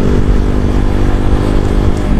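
A Yamaha Jupiter Z1 motorcycle fitted with an aftermarket Tsukigi exhaust runs steadily close by, its loud, continuous engine rumble and rattle holding an even drone throughout.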